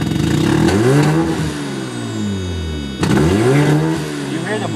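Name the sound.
Mazda RX7 engine revving with blow-off valve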